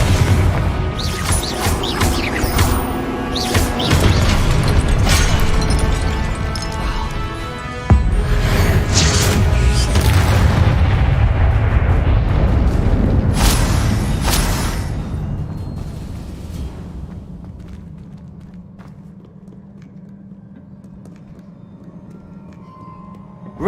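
Confringo fire spell in the Hogwarts Legacy video game bursting in a series of heavy booming blasts and crashing impacts, loud and dense, then dying down into a low rumbling hum and near quiet.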